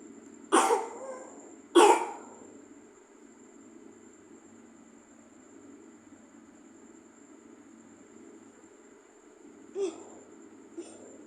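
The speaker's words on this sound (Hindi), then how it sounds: "मेरे बेटे को खांसी बहुत ज़्यादा आ रही है।" A child coughs twice in quick bursts, then a long quiet stretch, followed by a couple of fainter coughs near the end over a steady hum.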